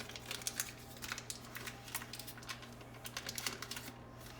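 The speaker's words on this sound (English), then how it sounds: "I'm just going to unwrap this stick of butter and plop it in the mixing bowl." A softened stick of butter is peeled from its paper wrapper: a close, fairly quiet run of rapid crinkling and ticking rustles over a steady low hum.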